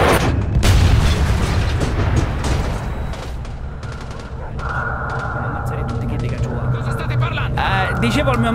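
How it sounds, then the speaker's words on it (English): Heavy artillery blasts and booming explosions in a Mafia II gunfight, loud and dense at first, then a steady rumbling din with shouted voices mixed in. "they got artillery!"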